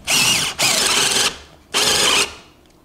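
A KIMO drill driver bores a hole with a harsh impact hammering, roaring loud and close in three bursts separated by short pauses and ending in quiet.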